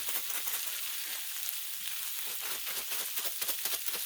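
Chopped onion sizzles steadily on a hot Blackstone flat-top griddle, a dense, even crackle of frying with no voices over it.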